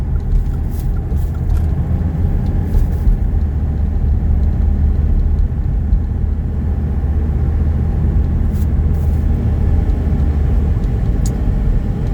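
A 1985 Mercedes 300TD wagon's diesel engine pulls hard through a 0 to 60 run, a loud steady low rumble from inside the cabin with little change in pitch across the stretch.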